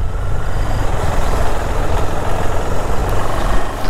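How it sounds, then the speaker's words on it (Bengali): A vehicle engine runs at low speed as a steady, loud, dense rumble with constant noise, heard close and alone without talk. "আমার গাড়ি তো 20-তে চলছে।"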